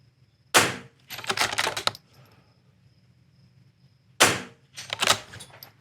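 A .22 rifle in an NRL22 match, fired from a kneeling position at a far target, lets off two sharp, close cracks a few seconds apart, each followed by brief mechanical clattering and handling noise.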